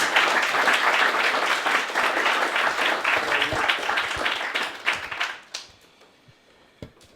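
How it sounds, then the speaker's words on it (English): An audience at a careers fair breaks into sustained applause for a presenting company, dense clapping that holds steady and then thins out, ending in a few scattered claps and near quiet. "Round of applause, please, for Dentally."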